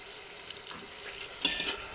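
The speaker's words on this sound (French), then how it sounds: "Je vais faire revenir avec du sel, évidemment." Vegetables sauté with salt in a pan for a guinea fowl couscous, giving a soft, close frying crackle with light stirring scrapes that swell briefly near the end.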